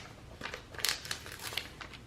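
Quiet snips and crinkles of scissors cutting a paper planner sticker, a few soft, close cuts in a row in a hushed room.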